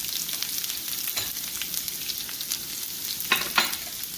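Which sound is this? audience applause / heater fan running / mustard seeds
mustard seeds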